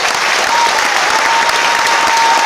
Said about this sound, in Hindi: एक जोरदार तालियां हो जाए आप सबके लिए